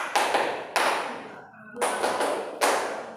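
Claps in a children's clapping chant, each a sharp, close slap with a short ringing tail. Four separate strikes arrive at uneven intervals with a brief quiet gap midway, and nobody talks over them.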